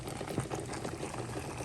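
Garlic butter shrimp gravy simmering and reducing in a pan, a soft continuous bubbling with faint pops, steady and close, no voices.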